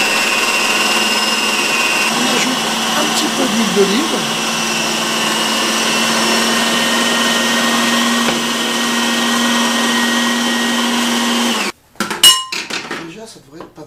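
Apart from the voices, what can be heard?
food processor blending tapenade with olive oil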